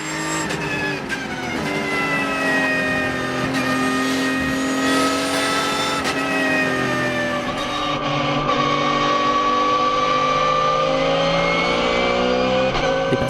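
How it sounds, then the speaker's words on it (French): Race cars in the ROSCAR 109 finale at Magny-Cours circuit, engines roaring loud and continuous as cars overtake, pitch rising and falling throughout. "Dépassement net et sans bavure pour le jeune Carl Van de Vostin qui s'empare de la 4e position du général"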